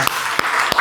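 Three sharp, evenly spaced claps ring out close by in a group session, each a crisp single hit against a faint background hum.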